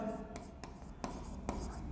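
Chalk or pen writing on a board in a Hindi grammar classroom lesson: quiet scratching strokes with a few sharper taps, under a faint background hum, with a voice speaking softly.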